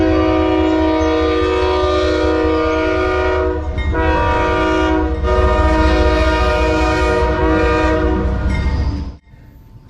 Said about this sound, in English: Let's have a look at some intermodal trains along the layout.